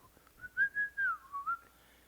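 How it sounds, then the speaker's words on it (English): A person whistles into a microphone, a soft melodic tune of a few sustained, wavering notes rising and dipping, close and fairly quiet with no other sound. "kind of hard to whistle into a microphone."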